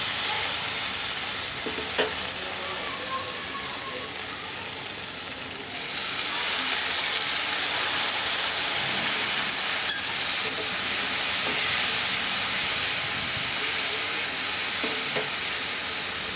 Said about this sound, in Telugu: అలాగే కొంచెం టమాటో కెచప్ వేసుకుంటున్నాను. వేసుకొని బాగా మిక్స్ చేసుకోవాలి.